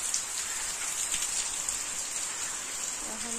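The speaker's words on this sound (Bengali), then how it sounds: "খুবই বৃষ্টি হচ্ছে সকাল থেকে শুরু হয়েছে" Heavy morning rain pouring steadily on surfaces, a dense continuous hiss of drops, loud and unbroken with no talk.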